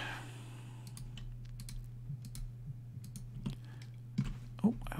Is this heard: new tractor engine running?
no